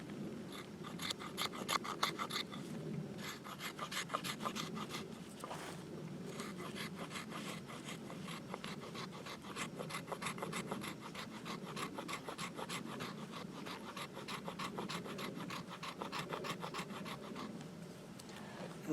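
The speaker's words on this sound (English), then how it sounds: "I'll take my iron, because of this spine on it, I'll get some shavings off of this fat wood" The steel spine of a knife scrapes shavings off a stick of fatwood in quick, steady rasping strokes, close up and fairly quiet, going on with barely a break and no talk.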